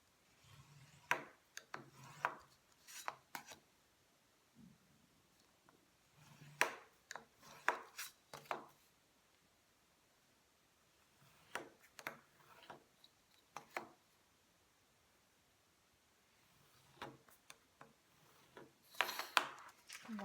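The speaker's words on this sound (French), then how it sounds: "on les marque bien avec une plioir" A bone folder scoring fold lines into paper for a scrapbooking staircase box, heard as short, quiet bursts of rubbing and scraping strokes separated by pauses.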